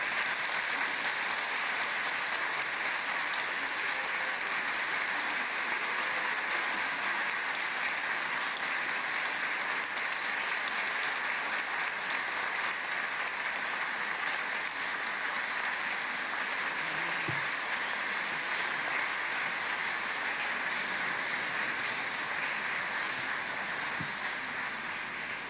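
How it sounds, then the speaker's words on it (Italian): Sustained, dense applause from a large congregation greeting a newly created cardinal at a papal consistory, steady and loud for the whole stretch with no talk over it. "Ecco, un applauso al cardinale."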